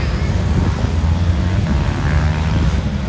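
Go-karts race around a track, a steady droning buzz of small engines blending into a continuous loud rumble, with voices faintly mixed in.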